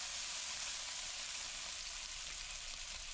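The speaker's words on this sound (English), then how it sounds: "Hear that sizzle?" Bacon sizzles steadily in a hot pan, a dense continuous crackle with fat spitting, close and even throughout with no voices.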